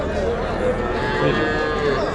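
Cattle at a busy livestock market in Vaniyambadi, a steady low lowing and bellowing amid a dense murmur of crowd voices and trader chatter, continuous and close throughout.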